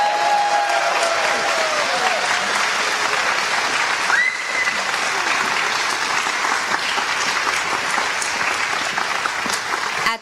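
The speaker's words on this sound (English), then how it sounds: "Let's give one large round of applause for this year's inductees." Sustained, dense applause from a large crowd at an Alpha Chi honor society induction ceremony, cheering inductees; steady and loud throughout with no speech over it.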